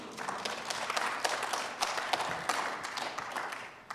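A Sunday congregation at a Unitarian Universalist service applauds quietly, the clapping soft and somewhat distant, a dense patter of hands lasting several seconds.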